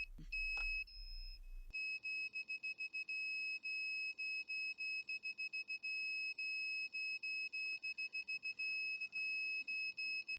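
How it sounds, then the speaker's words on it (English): Active buzzer driven by an Arduino beeping in a fast, steady on-off pattern of shrill electronic tones, alone and close, after a brief thud as it is connected. "I'm going to go ahead and plug in our buzzer, and it's going to start making noise"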